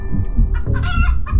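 Cartoonish chicken clucking from the video game Hello Puppets Midnight Show, a few short loud bursts close up over a low rumbling game background, with no talking.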